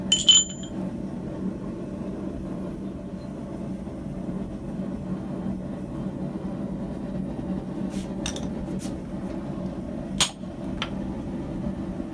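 Steel for a pair of blacksmith tongs takes a few sharp, separated hammer strikes late on, ringing over a steady low workshop hum.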